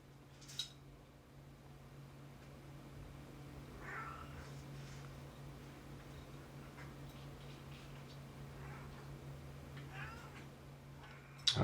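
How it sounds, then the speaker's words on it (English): A pet cat meows a few times at a distance, keen to be let outside, short faint cries scattered over a steady low hum and quiet room noise. "my cat is losing her mind and really wants to go outside"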